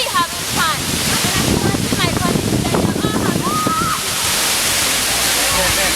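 Rushing water at the Wli waterfalls makes a loud, steady broadband roar throughout, with voices talking and calling out over it and a brief whistle-like tone partway through.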